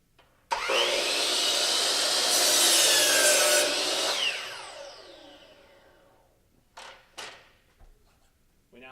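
A DeWalt compound miter saw spins up and makes an angled cut through a wooden board, a loud whining rip lasting about four seconds, then winding down and fading, followed by a couple of short knocks.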